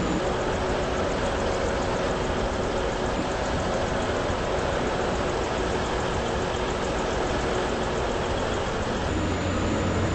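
A train runs steadily in the Roblox game Stepford County Railway, a continuous loud rumbling drone with a faint whine, holding constant throughout with no talking.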